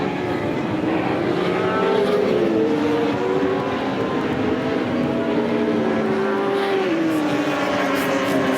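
Superbike motorcycles race at Killarney International Raceway, their engines giving a continuous loud whine whose pitch rises and falls with gear changes, under a faint commentary voice.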